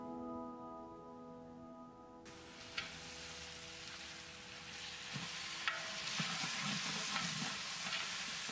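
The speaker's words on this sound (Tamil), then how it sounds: "நம்ம இப்போ தக்காளியை சேர்த்து இதோட நல்லா வதக்கிக்கலாம்." Tomatoes frying with onions and green chillies in oil for a large batch of mutton biryani, a dense, loud sizzle beginning abruptly and continuing with intermittent stirring knocks and scrapes, close up, without speech.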